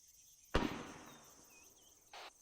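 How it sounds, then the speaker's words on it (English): A single accidental rifle shot in a military simulation game, one sharp distant crack that fades into a brief tail over quiet night ambience with faint insect chirps. "Is that an ND? Bravo heard shots."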